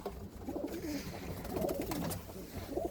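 Roller and homing pigeons coo softly in a loft, low rolling calls repeating under faint background noise and some nearby talking.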